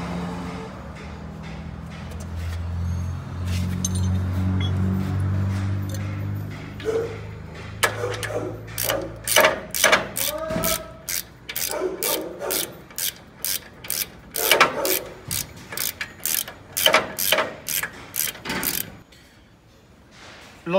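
Ratchet wrench loosening bolts on a Toyota steering ball joint mounting, which pass through the chassis into nuts: rapid clicking bursts in quick repeated strokes, close and fairly loud, after a stretch of low mechanical rubbing.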